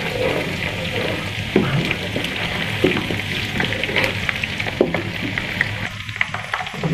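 Saag tadka frying with ginger and garlic in a pan, a steady, close crackling sizzle that runs the whole way with occasional stirring clicks, no talking.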